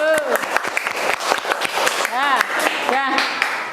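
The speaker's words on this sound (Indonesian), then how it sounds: "tepuk tangan untuk kelompok 2" Classroom applause for a student presentation group, a burst of clapping from pupils mixed with overlapping voices and chatter throughout.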